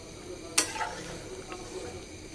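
Cumin seeds hit hot oil in a home kitchen with a sharp burst of sizzling, then a softer crackle that fades over a couple of seconds.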